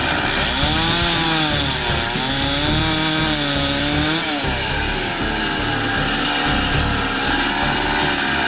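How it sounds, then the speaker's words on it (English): A chainsaw with a special blade roars steadily and close for several seconds, its engine pitch wavering slightly as it scores into rock around a mosasaur fossil. "a chainsaw with a special blade is used to score the area around the fossil"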